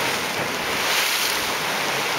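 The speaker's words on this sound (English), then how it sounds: "And so the water's just flowing out to sea." Ebb tide waves surge and water rushes out to sea below a cliff at Weymouth, a dense, continuous broadband wash with heavy wind buffeting the microphone.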